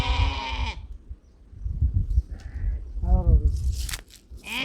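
Sheep bleating in an African village, a loud nearby bleat followed by a second shorter one, with chewing and crunching noises in between.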